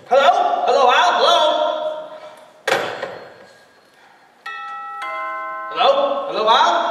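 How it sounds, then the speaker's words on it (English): A house doorbell chimes in a sequence of clear, steady tones midway through, set between stretches of close talk. "That's the doorbell, dear, not the telephone."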